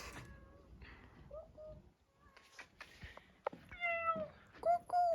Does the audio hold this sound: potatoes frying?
no